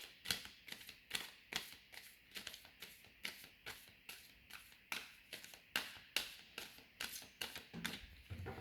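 Tarot cards are shuffled in a steady run of rapid, rhythmic riffles and taps, up close and without talk.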